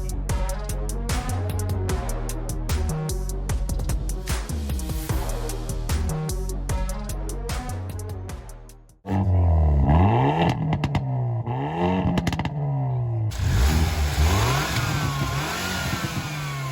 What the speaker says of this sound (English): we're gonna get a startup of a very special car and some pops and bangs